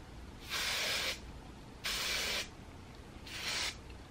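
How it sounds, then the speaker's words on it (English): Three short hissing bursts of Suave flexible control hairspray from an aerosol can, each about half a second long and evenly spaced, close and fairly loud against a quiet room with no talking. "And then I just like to hairspray these back."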